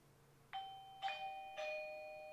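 A eufy smart lock's built-in doorbell sounds its chime: three clear, bright tones struck in quick succession, each ringing and overlapping, fairly faint and close with no talking.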